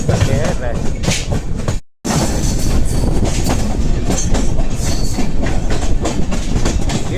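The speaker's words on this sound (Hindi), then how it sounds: "ये है विक्रमशिला एक्सप्रेस जो कि अभी गाजियाबाद की तरफ बढ़ रही है" Vikramshila Express passenger train rolling past at Khurja Junction, heading toward Ghaziabad, with loud continuous rumble and rhythmic clickety-clack of wheels over rail joints close by, briefly cutting out near the start before the steady roar resumes.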